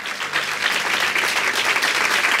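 Worshippers in a church clap together in a thick, sustained burst of applause, many hands close and loud, steady from start to finish.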